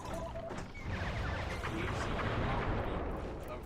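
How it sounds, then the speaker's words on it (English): Fireworks go off in the Sly 3 video game, a steady rumble of crackling bursts and booms that fills the scene, with no clear separate blasts. "This is the last of the fireworks."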